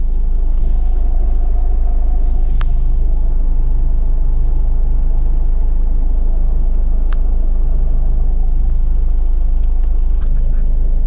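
Loud, constant low rumble of a car interior in motion with air conditioning on and a worn rear motor mount, with faint rattles and a couple of sharp clicks over the droning vibration.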